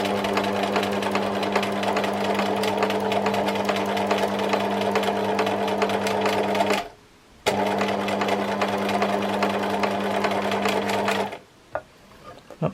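A sewing machine stitches free motion embroidery on a memorial quilt, whirring in a steady loud drone that stops briefly partway through and then again near the end.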